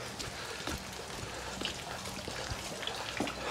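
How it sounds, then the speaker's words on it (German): Steady rainfall hissing continuously, with scattered drops pattering close by on a surface. "Und endlich hat es angefangen zu regnen."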